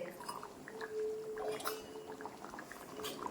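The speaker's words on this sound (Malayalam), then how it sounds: "നമ്മുടെ കറി നന്നായിട്ട് കുത്തി തിളച്ചിട്ടുണ്ട്" Fish curry with raw plantain bubbling in a pot, a soft, steady simmer of small bursting bubbles heard close up and alone.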